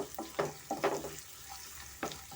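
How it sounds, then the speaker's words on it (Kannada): Green chili and ginger fry with onion in a pan for vegetable shavige bath, a soft, faint sizzle with a handful of brief scraping stirs heard close up. "ಇವಾಗ ಹಸಿಮೆಣ್ಸಿನ್ಕಾಯಿ ಸೇರಿಸ್ತಾ ಇದ್ದೀನಿ ಶುಂಠಿ ಮತ್ತು ಸ್ವಲ್ಪ ಇದನ್ನು ಸ್ವಲ್ಪ ಫ್ರೈ ಮಾಡ್ಕೊಳ್ಳೋಣ ನಾವು"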